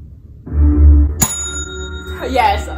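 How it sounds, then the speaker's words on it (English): A game-show style bell struck once during a family song-guessing challenge, a sharp bright ding with a ringing tail, preceded by a low hum and followed by people talking close by. "I wanted to see what it felt like to ring the bell first."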